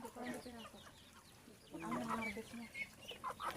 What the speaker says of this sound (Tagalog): Ayan, may mga itik, may manok.